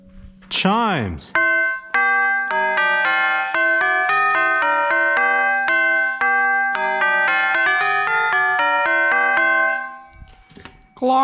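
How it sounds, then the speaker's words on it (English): Chimes playing a video game music theme: a brief sliding sweep at the start, then a clear, bell-like melody of sustained ringing tones, close and loud, dying away before a short closing sound. "Chimes."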